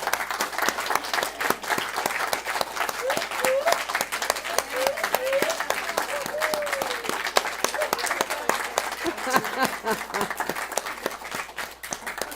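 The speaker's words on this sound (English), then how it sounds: "So I'm going to ask you all to clap" Applause from a church congregation at a Sunday service fills the space in dense, steady clapping that holds for the full stretch, with voices murmuring and speaking faintly underneath.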